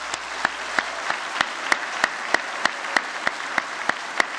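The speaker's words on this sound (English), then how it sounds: "how about joining me in a round of applause for the graduating class of 2018?" A round of applause for a graduating class at a college engineering technology convocation: evenly spaced, sharp claps repeat in a steady rhythm over a hiss of room noise.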